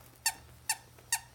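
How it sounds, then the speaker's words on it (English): Three short, evenly spaced squeaks come from the squeaker in the tummy of an antique Hermann Zotty teddy bear, fairly quiet and close, with no talking. "Not very loud, but he does squeak."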